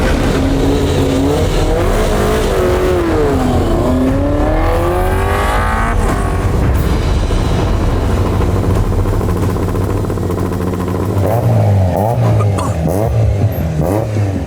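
An Alpine opening car runs ahead of the competitors at the Rallye Bourgogne Côte Chalonnaise 2024 on a rainy stage, with a loud, close engine revving and climbing through gears. The engine sound stays continuous, and tire noise rises near the end.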